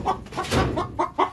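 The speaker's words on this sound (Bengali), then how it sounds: "ওই দেখো মুরগি ওইখানে ঢুকেছে" A chicken clucks several times close by in short, uneven bursts, each one a quick throaty call, with a little background noise between them.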